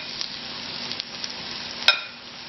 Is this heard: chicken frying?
yes